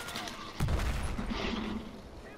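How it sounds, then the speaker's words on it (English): A sudden burst of booming explosions and gunfire-like blasts in Battlefield 4, fairly loud, followed by rumbling battle noise. "Explosions everywhere."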